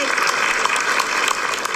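A studio audience claps in a dense, steady burst of applause, fairly loud and brief, with a voice faintly mixed in.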